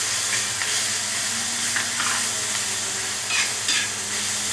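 Chilachi greens sizzle and fry in hot oil with garlic and green chili, a steady loud hiss with occasional stirring scrapes, heard close up with no talking.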